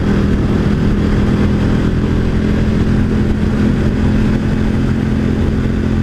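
A 2018 KTM 1290 Super Duke motorcycle being ridden on a twisty road, its engine droning loud and steady with a low rumbling hum and constant wind roar, no voices.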